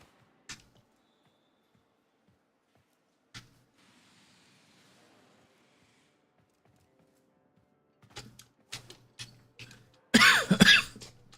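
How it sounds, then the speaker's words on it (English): A person coughs alone in a quiet room: two isolated single coughs early on, then a run of short coughs building to a loud, harsh coughing fit at the end. "I don't want to be coughing like this all night."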